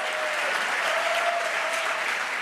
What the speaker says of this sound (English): Clap your hands if you're enjoying this so far.